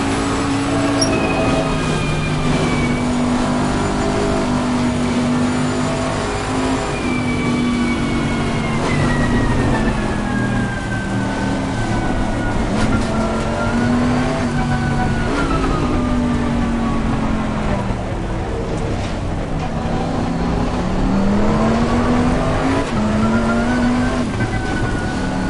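A race car in Assetto Corsa Competizione drones through the gears, its engine pitch climbing and dropping in repeated sweeps as it runs at a steady pace, loud and close with no talk over it.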